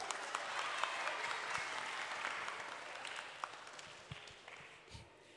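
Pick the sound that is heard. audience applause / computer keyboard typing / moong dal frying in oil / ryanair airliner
audience applause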